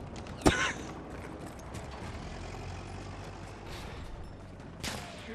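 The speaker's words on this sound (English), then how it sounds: "Who the fuck is shooting?" Gunfire rings out on a battlefield in the video game Battlefield 1: one sharp, loud crack early, then a fainter distant shot later, over a steady low rumble of vehicles and ambience.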